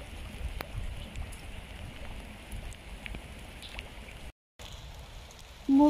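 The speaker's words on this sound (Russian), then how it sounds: "У нас ливни, сезон дождей." Heavy May rain falls on a garden, a steady soft wash of drops and patter close by, continuous with a brief gap near the end and a louder burst closing out.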